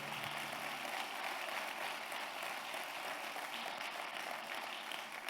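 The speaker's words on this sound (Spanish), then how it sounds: "Vamos, denle un aplauso al Señor." A church congregation applauds during a sermon, a continuous, fairly faint wash of clapping heard from a distance that holds steady throughout, with no talk over it.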